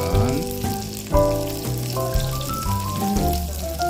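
Pollack pancakes (myeongtae-jeon) sizzle steadily in a frying pan while Lunar New Year dishes are cooked at a country house, the frying partly masked by background music throughout.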